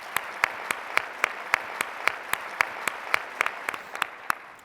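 An audience claps steadily at a talk for notaries, a continuous patter of many hands with sharper individual claps punctuating it, moderately loud and with no speech over it.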